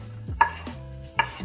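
Two sharp knife chops on a cutting board while food is prepared at home, crisp and close, separated by a short pause, with low kitchen background.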